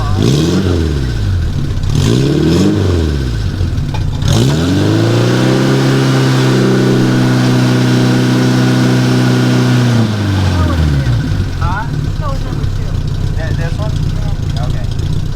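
A 550 Porsche Spyder kit car engine fitted with a stainless exhaust revs hard several times, the pitch climbing, holding high for a few seconds, then falling back. The sound is loud and close, with voices talking over it.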